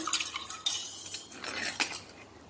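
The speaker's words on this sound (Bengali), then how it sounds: "আর নুন দিয়ে এটাকে ভালো মতন গুলে নেব" A spoon stirring sugar and salt into bael sherbet in a glass, with quick close clinks and scraping swirls in an uneven rhythm and no talking.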